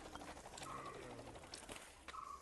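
A pet bird, Janu, calls out loudly and repeatedly near a new bird bath fountain, giving several cooing, crying notes in quick bursts close by.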